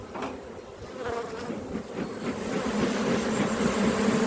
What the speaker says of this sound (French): il y a énormément d'abeilles